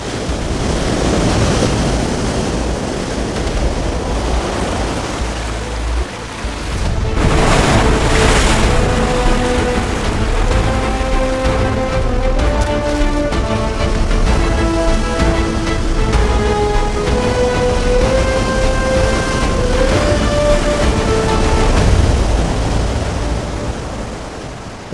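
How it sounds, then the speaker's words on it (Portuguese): Huge ocean waves break and crash against the rocks of a shoreline, a loud, continuous roar of surf with wind rushing throughout and a stronger surge partway through, while a sustained musical tone plays underneath. "Ao chegar à linha costeira, as ondas enormes quebram e as lançam contra as pedras."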